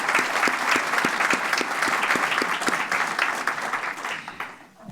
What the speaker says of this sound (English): Let's give a round of applause to the Ann Arbor Spark team for this.